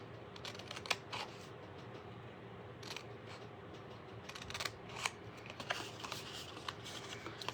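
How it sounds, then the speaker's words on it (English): Scissors snip through a cardboard treat box toward the score line in a series of quiet, crisp cuts and paper rustles, close and faint against a low background hum. "we're going to cut up to that first score line"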